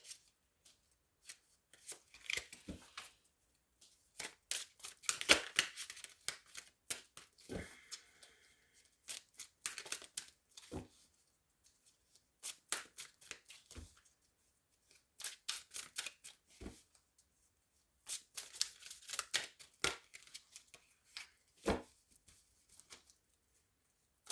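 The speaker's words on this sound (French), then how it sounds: "Allez, une dernière carte pour aujourd'hui." Tarot cards shuffled in bursts of crisp, rapid riffling and slapping, close and clear, separated by short quiet pauses, with no talk over them.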